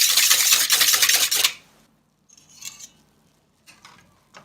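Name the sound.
stirring liquids with oil for gluten-free bread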